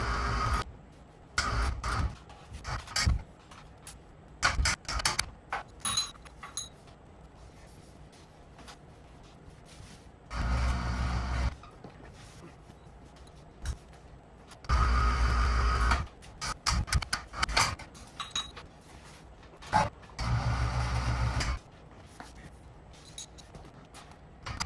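A wheel is pulled up onto a garage tire rack with a strap, giving repeated ratcheting or winching bursts close by, several seconds each, split by short quieter gaps with clicks and handling noise.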